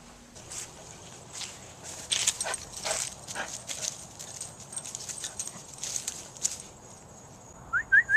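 A dog moves about indoors with light padding footsteps and faint scuffling, then gives a few short, higher-pitched yelps or whines near the end, close to the microphone and fairly quiet overall.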